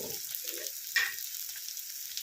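Sliced onion sprinkled with salt fries in a pan with a steady, soft sizzle and a brief louder crackle as it is stirred, with no talking.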